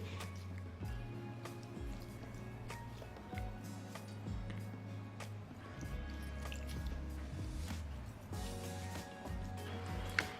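Soaked, salted bitter gourd slices are squeezed by hand, giving wet squishes and a steady patter of drips falling back into water, quiet and close.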